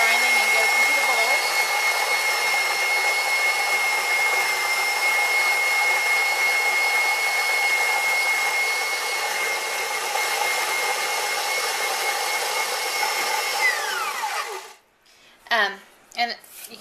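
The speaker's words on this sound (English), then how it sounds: "And then you can see that the wheat just starts grinding and goes into the bowl." An electric grain mill runs on high grinding wheat into a bowl, giving a loud, steady whining roar with a high tonal hum that winds down near the end. A person talks over it, then speaks briefly after it stops.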